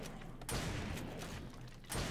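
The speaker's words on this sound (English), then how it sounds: "All you can hear is like mass gunshots going off." Distant mass gunfire in the video game 7 Days To Die: a dense, steady crackle of far-off shots rolls on throughout, with two louder bursts standing out near the start and the end.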